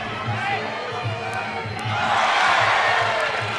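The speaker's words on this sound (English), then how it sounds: "The crowd really getting into this" At a combat sports fight, the crowd roars and cheers loudly over a steady hum, and the noise swells toward the end.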